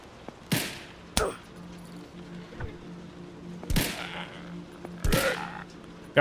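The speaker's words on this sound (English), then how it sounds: "The shooting is real slow, the fire rate on our pistol" A pistol fires slowly in the Scarlet Lake game, with four or five sharp, loud shots spaced well apart over a low background hum.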